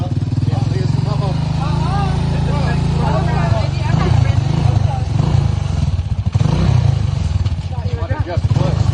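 A Honda XR200 motorcycle engine runs steadily close by with a low, continuous drone, while people talk over it throughout.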